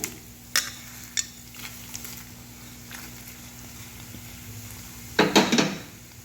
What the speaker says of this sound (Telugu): ఆయిల్ వేడయిందండి మీడియంలో ఇప్పుడు ఈ కచ్చా పచ్చగా దంచుకునే దినుసులన్నీ ఆయిల్ వేసేద్దాము